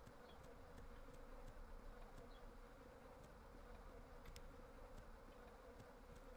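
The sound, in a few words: bees buzzing in a video game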